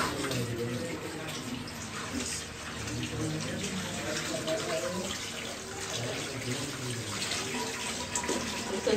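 A kitchen tap runs steadily while raw chicken is washed for chicken shawarma, a broad continuous splash under faint voices talking in the room.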